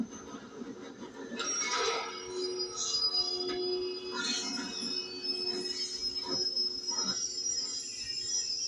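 Train running in Red Dead Redemption 2, a steady rumble of wheels with metallic squeals rising over it throughout, a fairly loud continuous din with no talk.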